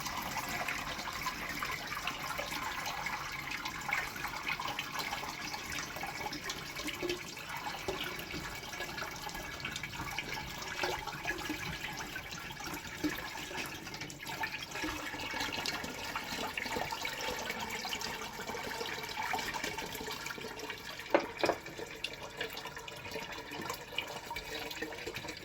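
Sea water is poured through a filter as a steady, soft, continuous splashing trickle of liquid lasting throughout, fairly quiet and without voices.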